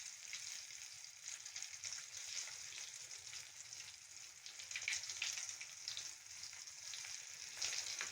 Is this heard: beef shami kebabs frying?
yes